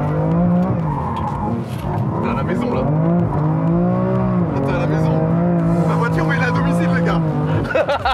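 A BMW M5 with a V10 engine revs hard with its tires spinning, giving a loud, sustained, wavering engine roar that rises and falls across the whole stretch while people talk over it.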